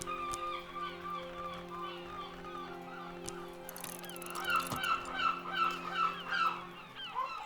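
A gull colony calls in the video game Book of Hours, with repeated honking, squawking cries layered over a steady low hum and growing busier and louder toward the end.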